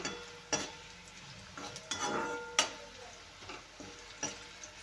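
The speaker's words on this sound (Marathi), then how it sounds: "असं हे भाजून घ्यायचे आहेत आपल्याला कारले छान तेलामध्ये फ्राय" Bitter gourd frying in oil in a pan, with a soft sizzle and irregular scraping stirs and clicks of a utensil against the pan at roughly one-second intervals, fairly quiet.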